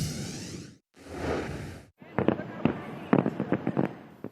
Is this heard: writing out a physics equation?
no